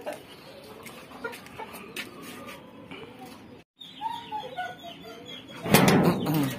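Fancy chickens in a pen give a loud burst of wing flapping near the end, following scattered soft clucks and rustling.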